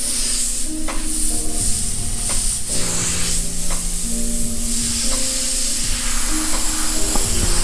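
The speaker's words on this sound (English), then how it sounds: "This is the Badger Omni 3000 airbrush. It's just a siphon fed dual action airbrush." Badger Omni 3000 siphon-fed dual-action airbrush spraying Createx paint onto a T-shirt at 50 psi, a steady close hiss of air that runs without a break, with a tonal hum underneath and faint clicks and shifts as the trigger moves.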